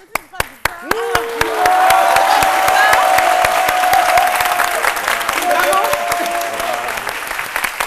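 A studio audience at a midday TV talk show breaks into sustained applause and crowd noise after a few scattered opening claps, with a host's voice carrying over the clapping.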